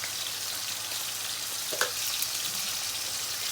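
Onions fry in hot oil with turmeric and salt, giving a steady, even sizzle with one brief stirring clatter partway through.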